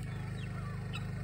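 Poultry cluck and chatter in an outdoor run where two ducks are kept, a steady close flock murmur with a couple of higher calls over constant low background noise.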